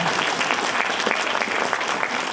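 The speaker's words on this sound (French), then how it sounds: "Applaudissons le Seigneur." An audience in a church applauds steadily, dense loud clapping that carries on without a break through the whole clip.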